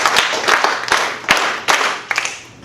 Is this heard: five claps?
yes